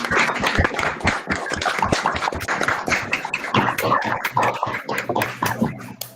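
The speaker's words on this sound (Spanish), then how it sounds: "le damos un aplauso a" Audience applause after a morning conference talk, dense steady clapping from many hands for several seconds, fairly close and even in loudness.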